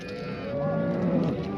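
A young ox calf at a Samarkand cattle market gives a single short, close moo.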